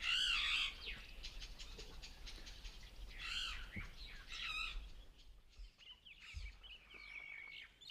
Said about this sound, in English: Sounds like a noisy Burchell starling with another small bird taking dictation.